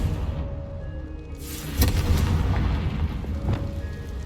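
Blasting-spell explosion in the Hogwarts Legacy video game: a deep booming blast with a sharp crack that rumbles on over a low background, loud and near.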